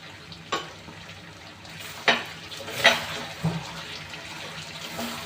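Beef kala bhuna sizzles quietly in a pan, with a few sharp scraping stirs of a utensil against the pan standing out over the low frying hiss.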